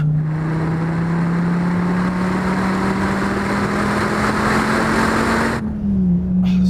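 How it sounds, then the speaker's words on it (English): SRT Viper GTS V10 engine pulling hard under straight-line acceleration, a loud steady drone rising slowly in pitch before the throttle lifts near the end. "It actually feels quicker than the ZR1, just straight line acceleration."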